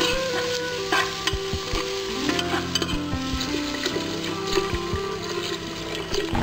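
A spoon scrapes and clatters in a pot as spices are stirred for Lahori paya, with a soft sizzle of frying underneath and repeated sharp metallic knocks close by.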